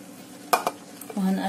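Pasta prepared Indian-style is stirred in a pan, a few quick metallic scrapes and clicks of the utensil against the pan followed by a soft rising sizzle, close up with no talking.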